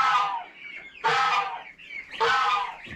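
Young chickens in a coop cluck close by in three distinct bursts separated by short pauses, with no talking.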